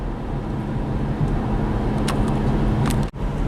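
A 2018 BMW X1 drives along a road, heard from inside as a steady low engine and tyre drone with a brief dip near the end; nobody speaks.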